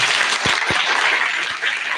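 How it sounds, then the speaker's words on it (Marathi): Loud, steady applause from a kirtan audience in a village gathering, a dense roar of many clapping hands with a few low thumps mixed in, filling the whole moment without speech. "ह्या सगळ्यांसाठी एका जोरदार टाळ्या वाजवा"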